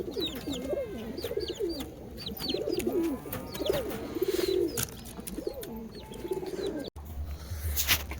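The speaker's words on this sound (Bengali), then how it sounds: "অলরেডি সব কবুতর আমার ভেতরে ঢুকে গেছে" Several pigeons coo repeatedly at close range in a coop at dusk, overlapping throaty calls with a few chirps, then a short louder rustle near the end.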